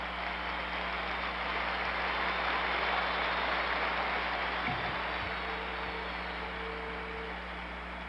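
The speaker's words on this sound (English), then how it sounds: "The applause for Baylor." A 1970 Madison Square Garden basketball crowd applauds Elgin Baylor of the Lakers as he leaves the game against the Knicks, a broad, steady wash of distant clapping and cheering heard through an old broadcast recording.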